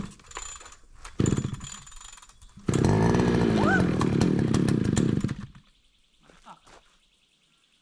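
A small two-stroke engine, used to drive ground screws into hard clay soil, bursts into a loud, steady revving run for about three seconds after brief sputters and a short start attempt, then cuts out into quiet.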